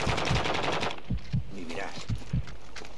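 Rapid automatic gunfire in Call of Duty Modern Warfare DMZ, loud bursts of shots with a few heavier single reports and a faint voice underneath.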